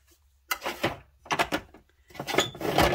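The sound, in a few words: small drawers being opened and closed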